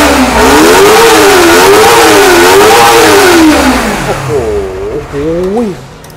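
A Kawasaki ZX-25R motorcycle engine revs loud and close, climbing through several high-pitched surges before dropping back in short blips, with no talk.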